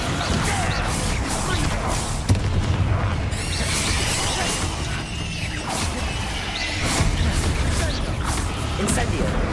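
A Descendo spell slamming down in the game Hogwarts Legacy: a dense, continuous barrage of heavy booms and crashing debris that stays loud throughout, with no clear pauses.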